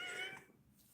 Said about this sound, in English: She was a little tiny baby kitty.